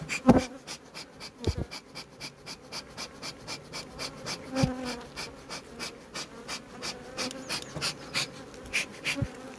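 Honey bees buzz steadily around spring hive colonies emerging from winter, a dense, continuous drone with individual insects passing close to the microphone, plus a few brief nearby knocks, no talking.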